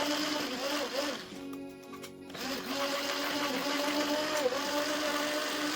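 An electric mixer whirs steadily as it beats sugar into sponge cake batter, its motor pitch dipping briefly under load mid-way before settling back into an even hum.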